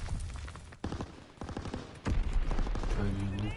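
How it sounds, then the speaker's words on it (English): Incoming enemy mortar fire and gunfire in Call of Duty WWII, rapid bursts of shots and crackling explosions building to a loud dense barrage, with a voice talking over the battle. "Enemy mortar fire incoming."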